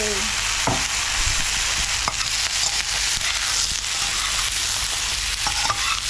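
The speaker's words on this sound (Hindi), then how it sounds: "अब ये परवल को थोड़ा मैं फ्राई करूँगी" Pointed gourd (parwal) frying in ghee in a pan, a steady dense sizzle running throughout with occasional stirring clinks and scrapes, close and fairly loud with no talking.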